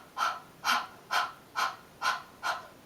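Six short, sharp panting breaths pushed from the diaphragm in an even, steady rhythm during a vocal workshop exercise, close and clear with no other voices.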